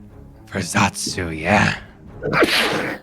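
A single sharp sneeze bursts out close by during a Dungeons & Dragons tabletop session, with people talking just before and after it.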